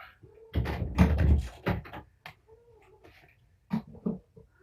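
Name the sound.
kittens and mother cat meowing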